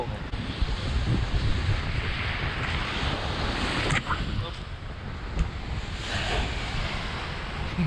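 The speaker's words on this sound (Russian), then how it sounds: "волны, волны." Ocean waves on a gray, rainy northern Arctic coast near Tiksi, a continuous broad wash of surf mixed with wind buffeting the microphone, steady and fairly loud throughout.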